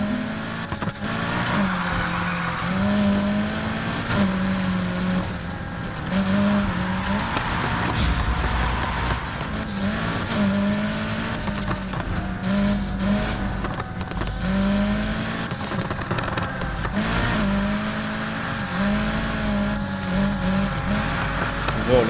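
A drift car's engine in Need for Speed Heat drones steadily with repeated revving rises and shifts through a corner, loud and continuous, with a voice talking over it at times.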